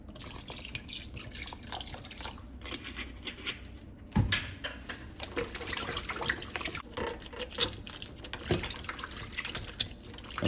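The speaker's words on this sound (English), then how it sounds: "Add some white vinegar." White vinegar splashes and drips over raw chicken in a sink, a close, uneven trickling with one sharper splatter midway, no voices.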